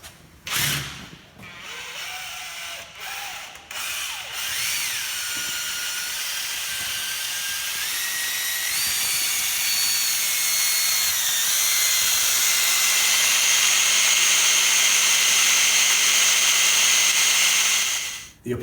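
A power drill with a mixing paddle churns epoxy patch for a floor coating, running steadily with a whining, rising motor drone for most of the stretch after a few brief starts, close and loud, then stopping abruptly.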